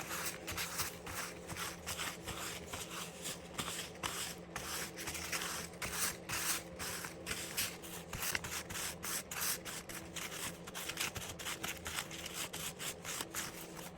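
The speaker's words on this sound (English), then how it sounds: "I also want to go ahead with a little bit of fine grit 320 sandpaper" Fine 320-grit sandpaper rubs across rubber stamps in quick, repeated back-and-forth strokes, a soft, close, rhythmic scratching that continues steadily throughout at low volume.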